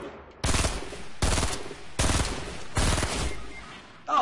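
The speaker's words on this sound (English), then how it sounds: "He's shooting his own builds!" Four sustained bursts of automatic gunfire from the video game Fortnite, each lasting about half a second to a second with short gaps, loud and close, with no talking.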